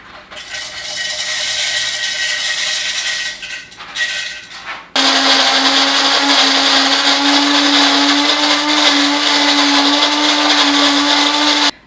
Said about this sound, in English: I went ahead and ground the coffee beans